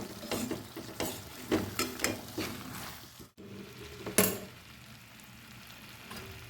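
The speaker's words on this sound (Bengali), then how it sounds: "এবার ঢাকা খুলে ডিম দিলাম আর একসাথে নেড়ে চেড়ে নিচ্ছি।" Eggs and whole spices such as mace, pepper, cardamom, cinnamon and cloves are stirred in an uncovered pot, giving a quick run of rhythmic scraping and clinking strokes over a soft sizzle, then a sharp clank and quieter frying.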